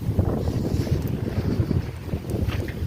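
Wind gusts through a house in a village in Nepal, pushing at a window, giving a steady rough rushing and buffeting close to the microphone with no voices.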